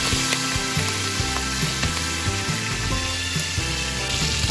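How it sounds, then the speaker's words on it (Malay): Prawns frying in a pan of oil for soy-sauce fried kuey teow, a steady close sizzle with clinks and scraping of a utensil running throughout. "Mula-mula kita goreng udang terlebih dahulu sehingga masak."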